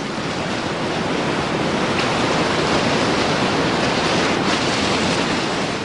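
Turbulent Amazon floodwater rushes downstream in a dense, steady roar of churning water, with no talk and no break.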